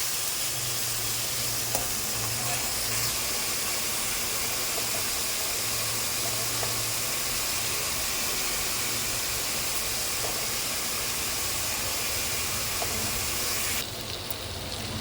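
Chopped carrot, beans and cabbage fry with salt in a pan, a dense, continuous sizzle that stays even and fairly loud for the whole stretch, with no speech.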